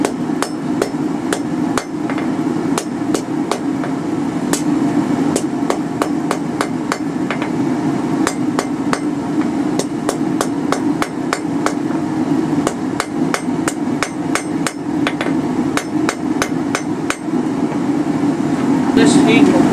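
A hammer tapping hot steel on an anvil while forging a twisted J hook, sharp metallic ringing strikes in quick irregular bursts over a steady background hum, close and loud, with a few brief pauses between series.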